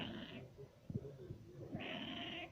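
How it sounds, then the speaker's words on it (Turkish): A cat in heat gives two drawn-out, strained meowing calls at the start and end, close and moderately loud, with soft rustling in between and no talk. "Ondan sonra tuhaf tuhaf sesler be me mevler."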